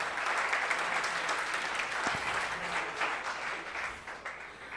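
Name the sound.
congregation applauding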